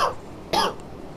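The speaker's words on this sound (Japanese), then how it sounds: "ちょっと咳します" A single short, dry cough from a game commentator with a cold, close to the microphone, preceded by a faint breath and followed by quiet.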